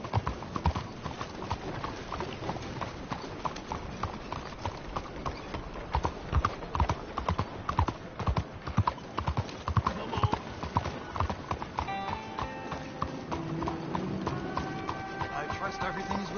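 Continuous hoofbeats of a horse trotting in Red Dead Redemption 2, loud and near for most of the stretch, then giving way to tonal game sounds near the end; no speech.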